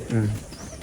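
A pigeon in a home loft gives a single brief, low coo, close and fairly loud, over faint background noise.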